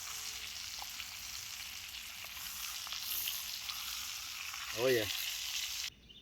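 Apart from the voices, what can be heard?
steak searing in butter over a cooking fire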